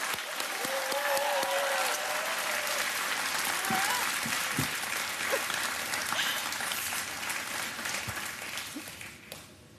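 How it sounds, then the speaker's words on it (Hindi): Studio audience at an Indian quiz game show clapping continuously for a contestant, a full steady burst of applause with a few voices and scattered thumps underneath, easing off toward the end. "तालियां बजती रहे मधु के लिए"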